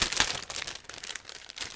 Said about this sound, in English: So this one we will open, and it's a resealable plastic bag, so it should be easy to open